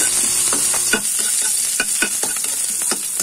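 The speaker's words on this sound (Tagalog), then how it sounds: "Magluluto na tayo, gigisa na natin yung puset" Squid and garlic sautéed in hot oil in a pan for coconut-milk squid adobo: a steady close sizzle broken by repeated scraping stirs of the spatula, with no talking.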